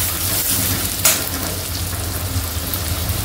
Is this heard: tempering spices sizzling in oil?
yes